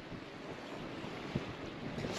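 Wind buffets a microphone on a fishing boat on the Cromarty Firth in a constant rushing roar, with faint water movement and a soft thump midway; brief and fairly quiet.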